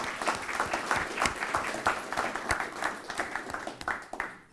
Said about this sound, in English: a round of applause to all the participants and speakers